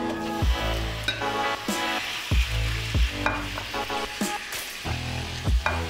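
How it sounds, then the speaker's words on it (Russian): Ground red meat frying and sizzling in a pan for lasagne, a steady close crackle with periodic louder scrapes and stirs of a utensil against the pan. "Можно начинать обжаривать."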